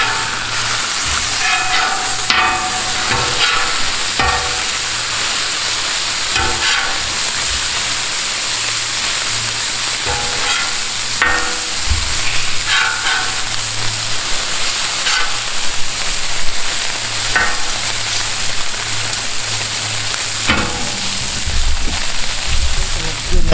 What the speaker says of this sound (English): I'm not looking for a real crispy bacon, so I'm going to go ahead and